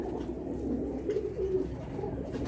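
Cooing of open-eyed, medium-sized pigeons kept in Karachi, a steady low murmur of overlapping coos running close and continuous throughout.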